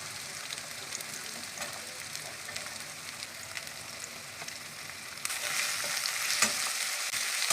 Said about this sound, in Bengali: এক এক করে সবজিগুলো ভেজে নেব। প্রথমে দিয়ে দেবো গাজর, তারপরে দিয়ে দেবো বিনস,